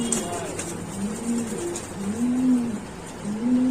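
Pet pigeons cooing at a pigeon seller's shop, repeated soft throaty coos rising and falling close by, several calls over a few seconds against a low background hum.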